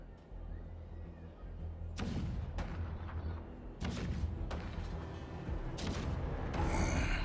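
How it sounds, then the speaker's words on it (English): Deep booming cannon blasts roll in several times over a constant low rumble in a battle scene from the game Honkai: Star Rail, with a louder crack near the end. "The rumble of the cannons."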